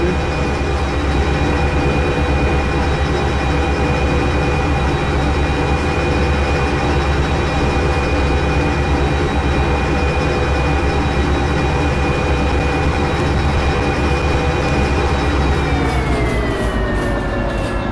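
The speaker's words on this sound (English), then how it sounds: "There ain't supposed to be no train on the track I'm delivering to." A freight train in the video game Derail Valley rolls along the track with a loud, steady rumble and sustained whining tones that slide lower near the end, with no talking.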